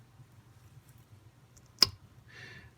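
One sharp metallic click from a pair of Knipex linesman pliers in a quiet room, followed by a brief soft scraping rustle.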